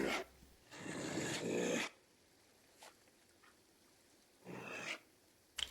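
Low, rasping dog growls in Pathfinder: Wrath of the Righteous, a long snarl followed by a shorter one a few seconds later, with quiet gaps between.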